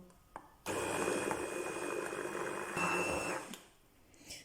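A blender grinds banana with lemon juice and powdered sugar for a mousse filling, starting abruptly after a soft click and running as a loud, steady whirring roar for about three seconds before cutting off.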